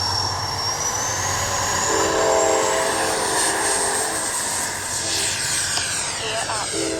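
An RC MiG-29 model with twin 64mm ducted fans spools up for takeoff, a loud, steady jet whine rising in pitch with a rushing roar underneath, while a person talks during it.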